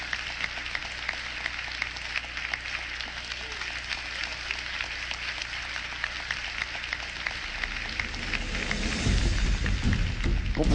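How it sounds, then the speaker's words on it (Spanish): Church congregation applauding, a steady patter of clapping heard at moderate distance that swells and grows heavier toward the end, with a low rumble joining in at the close. "Demos un aplauso al Rey de Reyes"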